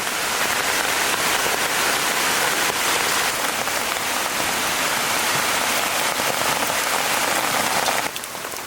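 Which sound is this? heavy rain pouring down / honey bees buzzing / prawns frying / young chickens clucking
heavy rain pouring down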